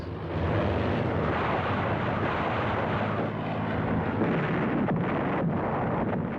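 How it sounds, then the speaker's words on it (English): WWII carrier-based warplanes strike Peleliu island, a continuous heavy engine roar mixed with rumbling blasts and wind-like noise, loud and sustained throughout. "his carrier-based planes strike Peleliu and all supporting bases"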